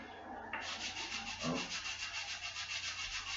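A wooden model boat hull being sanded by hand, with a steady, close rasping sound and a regular back-and-forth stroke rhythm that continues for several seconds with no talk.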